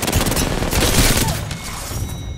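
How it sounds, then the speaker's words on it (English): Dense, loud automatic gunfire bursts rattle rapidly in Apex Legends, a continuous fusillade for about a second and a half before easing into quieter echoing shots. "He's shooting them so he can go there."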